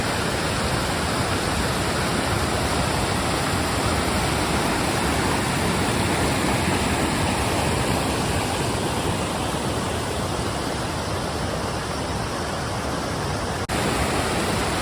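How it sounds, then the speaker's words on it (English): Steady, loud roar of a waterfall in Olympic National Park along the Royal Basin trail, a dense unbroken rush of falling water filling the whole stretch with no voices. "Well, there's the waterfall"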